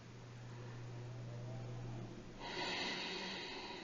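Steady, controlled breathing during a chakra yoga session, a long soft inhale flowing into a stronger, brighter exhale, close and even with no talk.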